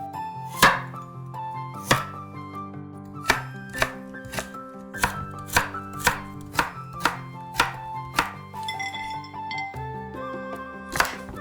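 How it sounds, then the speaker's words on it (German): A knife chops carrots into strips on a cutting board, with a steady series of sharp, close knocks about every half second to second. "Möhren in Streifen schneiden."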